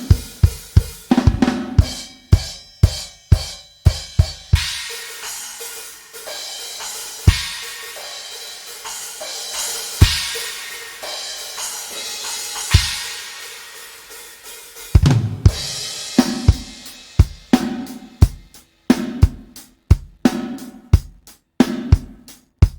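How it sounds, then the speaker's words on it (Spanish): Funk mix with tube distortion and glue-style compression across all tracks, punchy drum hits driving a steady groove, then a sparser break with scattered hits before the full beat returns, loud and alone. "Agregué una distorsión que se llama The Tube y un compresor para hacer un efecto como de pegamento de todas las pistas"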